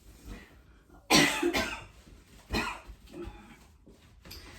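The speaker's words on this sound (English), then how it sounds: "I'm sorry for coughing" A close, loud cough followed by a few smaller coughs and throat noises, over faint background hum.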